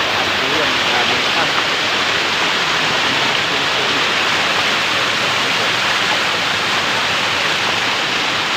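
Strong flow of rushing water after heavy rain, a steady, loud, broadband roar that continues without break throughout, close by and unchanging.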